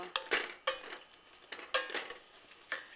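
A spoon scrapes and clinks against a pan while spinach is stirred, giving several sharp separate knocks and scrapes in an uneven rhythm with soft sizzling beneath, close by, with no talk.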